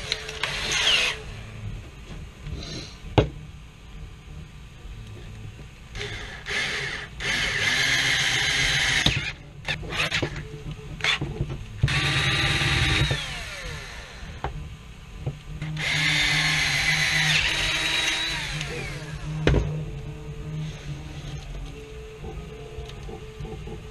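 Power drill boring holes in a Nerf blaster pistol build, several bursts of whining drilling separated by pauses, close and fairly loud.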